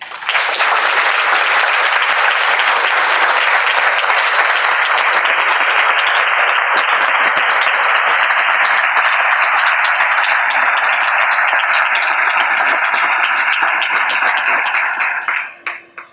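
Applause from an audience at a community diversity dinner fills a hall, sustained loud clapping that carries on steadily for about fifteen seconds before tapering off at the end.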